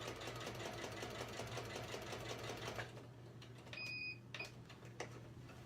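A sewing machine stitches across a quilt block with a steady, fast mechanical whirring and needle chatter, pausing briefly near the middle and then starting up again, close and clear with no talking.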